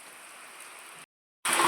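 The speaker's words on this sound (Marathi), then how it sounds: "ज्या दिवशी मी रानात येईन त्या दिवशी पाऊस थोडा थोडा येतो, लई नाही पण थोडा थोडा येतोय." Light rain falls over an open farm field as a soft, steady hiss, briefly cutting out before returning louder and closer for the last moment.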